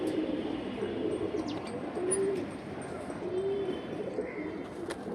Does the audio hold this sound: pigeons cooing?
yes